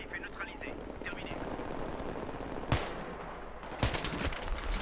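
Battlefield 3 gameplay with a couple of sharp gunshots cracking over a dense rumble of battlefield noise and aircraft drone; no one talks.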